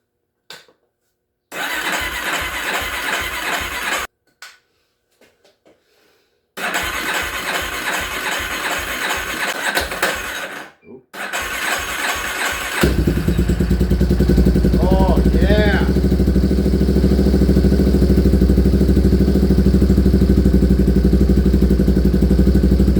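A Yamaha 366 big bore motorcycle engine cranks and fires in two loud revving bursts separated by pauses, then settles into a steady, close, throbbing idle for the final ten seconds.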